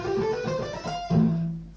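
Electric guitar playing a short rearranged lick at a fast-playing lesson, a few sustained notes sliding and ringing in a quick connected phrase, close and clear with no talking.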